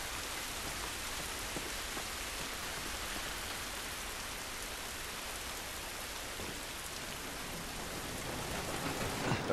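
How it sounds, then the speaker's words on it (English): Steady, dense rain pours in The Last of Us Remastered, a continuous hiss of drops on surfaces that stays even and fairly loud throughout, with no voices over it. "This rain ain't gonna do us any good."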